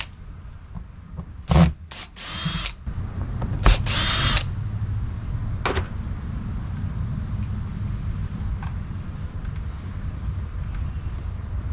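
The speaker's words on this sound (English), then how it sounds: "then it's just a matter of pulling out these screws" A power drill backs screws out of a truck camper's bubble window frame in a few short bursts near the start, then a steady low rumble with faint rubbing continues alone to the end.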